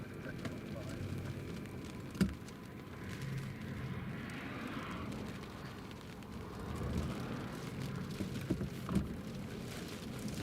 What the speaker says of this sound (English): the rain is just starting a lot heavier now